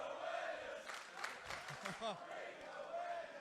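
Wrestling crowd at a PWA full match between Travis Banks and Robbie Eagles, a steady roar of cheering and chanting spectators filling the arena, with a commentator's voice riding over the noise.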